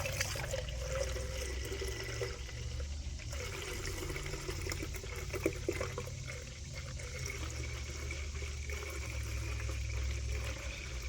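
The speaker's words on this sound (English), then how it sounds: "make sure you add your coolant" Coolant poured into the reservoir of a 2003-2006 Mercedes W211 E-Class during radiator fan work, a steady low liquid rush and gurgle running throughout at moderate level with no talk.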